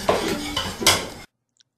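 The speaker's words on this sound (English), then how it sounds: "and whisk until smooth." A chocolate, egg yolk and vanilla mixture is whisked in a bowl: about a second of close, brisk clinking and scraping, then it stops abruptly into silence.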